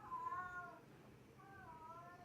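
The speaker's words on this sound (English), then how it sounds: "Fucking cat's outside here." Two drawn-out meows from a cat outside, a short pause between them, heard at a moderate distance with no talking.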